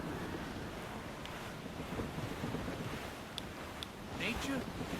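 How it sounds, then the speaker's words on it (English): Howling wind sweeps across open sea in Assassin's Creed Rogue, a steady broadband roar with surf-like swells and a few brief creaks and splashes, loud and continuous throughout. "Nature doesn't want us out here. She bites with a fierce wind."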